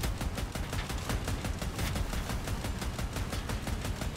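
The AC62 Therm autocannon in the vehicle combat game Crossout fires a steady, rapid stream of loud, evenly spaced heavy rounds, close and continuous for the whole stretch.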